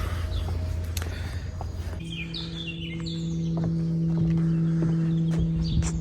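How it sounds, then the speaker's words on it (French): Small birds chirp outdoors in short, bright bursts at middling distance, over a low steady hum and faint distant background noise. "On entend les petits oiseaux."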